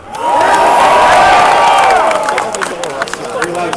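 A crowd at a card-game duel event cheers and whoops loudly with some clapping, a swelling roar of voices that peaks and then breaks into scattered shouts and claps.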